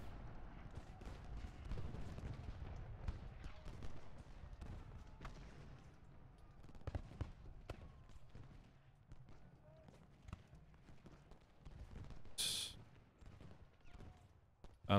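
Cannon fire in the Civil War strategy game Ultimate General: Gettysburg, scattered booms and crackling volleys from artillery and muskets rolling over a dense battle din, with occasional sharper reports.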